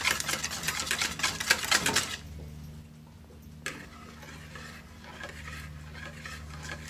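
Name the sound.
beating egg yolks until smooth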